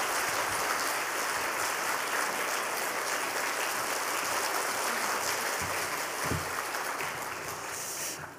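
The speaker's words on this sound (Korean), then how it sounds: "우리 뜨거운 박수로 맞이하겠습니다" A church congregation at a special dawn prayer service marking the Korean War anniversary claps to welcome a visiting speaker. The applause is a dense, steady wash that lasts throughout and fades slightly at the very end.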